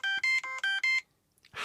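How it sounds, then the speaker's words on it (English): A diabetic glucose monitor alarm sounds a signal-loss alert: five short, loud, evenly spaced electronic tone bursts in quick succession, followed by a brief pause and a faint rustle. "It's my diabetic alarm."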